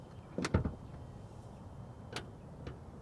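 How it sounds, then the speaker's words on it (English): Soft-close doors on a 2020 BMW M8 Competition pulling shut, a couple of soft clicks and muted thuds close by in a quiet nighttime setting. "every BMW M8 Competition comes standard with soft closed doors, and here they are in action"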